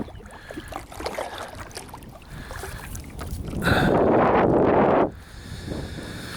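Wind gusting across a microphone while kayaking on the River Inny, a steady low rumble that swells into a loud roaring gust for over a second before easing, with no voices.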